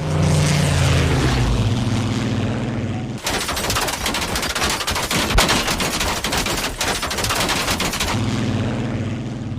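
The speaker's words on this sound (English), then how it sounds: "a British fighter plane passed on top of them and rained the cars with gunfire" A burst of loud, rapid machine-gun fire from a British fighter plane rattles over the drone of its propeller engine, which continues before and after the shooting.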